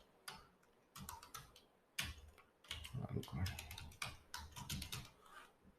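A password is tapped out on a computer keyboard in quick, uneven bursts of close, crisp key clicks separated by short pauses.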